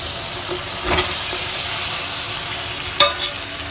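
Katla fish frying in spiced masala in a home kitchen pan, a continuous hiss and sizzle with a few sharp spatter pops and scraping stirs, close and steady with no talking.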